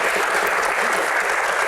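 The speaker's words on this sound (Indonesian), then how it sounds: "tepuk tangan." Steady applause from a studio audience at an Indonesian comedy Q&A show, dense and even throughout with no voices on top.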